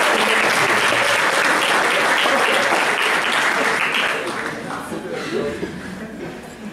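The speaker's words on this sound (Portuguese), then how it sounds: "Foi só meter uma sacanagem e você aplaudiu." Audience at a lecture bursting into loud applause mixed with some laughter, sustained clapping that fades gradually toward the end.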